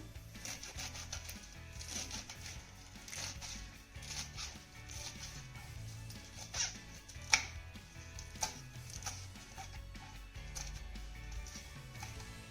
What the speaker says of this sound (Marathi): आपण आता ही मेथी ना चिरून घेऊयात